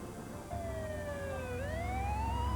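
A single siren wails clearly outside a hotel during a fire, its pitch gliding down and then rising again over a low, steady background hum.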